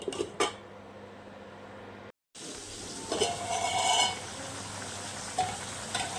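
A cooking pot gets covered with its lid in the middle of making a leafy greens dish with fish broth; a brief metallic clink comes through over a steady low sizzle, with scraping and a short dropout.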